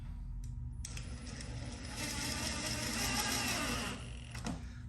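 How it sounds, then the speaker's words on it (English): Screws being driven into wood to mount a fan, a power driver whirring steadily for a few seconds with a rising, grinding tone as the screw seats, close and alone. "So let's screw this thing down."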